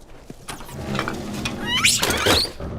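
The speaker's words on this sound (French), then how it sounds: "Ah, c'est un singe!" Several monkeys squealing in The Last of Us, sharp high squeals and chattering calls rising in the second half over a low game ambience, with scampering patter.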